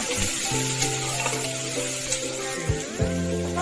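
Tomatoes and potatoes frying in a pan for spiced masale bhaat rice give a steady, close sizzle, with a few stirring knocks and brief bursts along the way.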